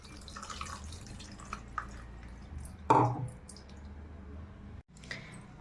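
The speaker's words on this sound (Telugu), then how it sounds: "ఇప్పుడు మనం దీంట్లో చింతపండు పులుసు అన్నది పోసేసుకోవాలి" Tamarind juice poured into an Andhra-style lentil soup (pappu charu) seasoned with chili powder, salt and jaggery, giving a short, close liquid splash about midway through an otherwise quiet kitchen background.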